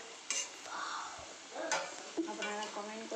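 Sosar flower pakoras frying in oil make a soft sizzle, broken by scraping stirs and a few light clinks of utensil against pan, close and fairly quiet.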